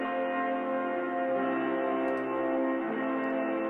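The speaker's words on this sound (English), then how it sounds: "You notice there's a lot of reverb." Sustained chords ring out with a washy, lingering reverb tail, a smooth continuous wash of music with no voices.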